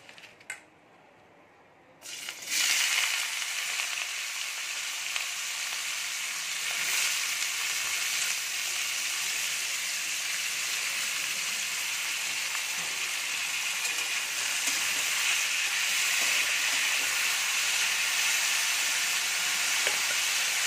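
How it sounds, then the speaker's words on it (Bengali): Vegetables hit a little hot oil in a wok and burst into a loud, steady sizzle after a brief quiet moment, frying continuously up close with no talk. "তো তেলটা গরম হয়ে গেছে, সবজিগুলো দিয়ে দেব।"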